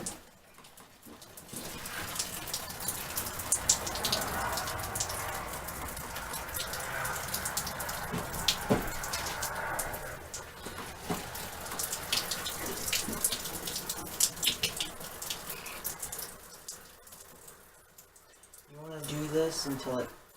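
Water drips and patters steadily from a wet deer hide being wrung tight with a stick. The fine drips continue for a long stretch before fading, and a brief voice comes near the end.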